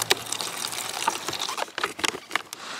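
Clear, water-like liquid poured from the heating pack of a self-heating emergency meal, heard as close, faint splashing and trickling in irregular bursts.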